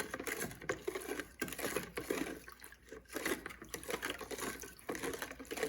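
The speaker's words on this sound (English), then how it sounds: "then you add cold water to make a gallon" Water poured steadily into a container of granulated dye for eco dyeing, a continuous splashing, pattering pour that runs close and fairly loud for several seconds with brief dips, no voices.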